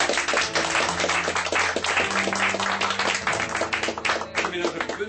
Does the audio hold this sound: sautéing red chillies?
no